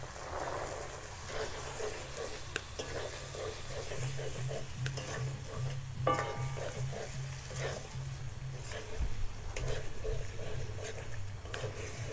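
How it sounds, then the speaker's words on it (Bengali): Raw shelled green peas, about 500 grams, tossed and stirred in a pan with salt. A steady sizzle runs throughout, with repeated scraping strokes from the stirring. No one speaks. "এইভাবে আমি কিছুক্ষণ মটরশুঁটিটাকে কষিয়ে নিচ্ছি"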